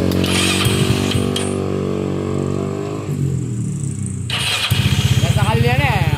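A motorcycle engine screams at full revs, loud and close, dips briefly, then returns to a harsh pulsing roar, with people shouting over it.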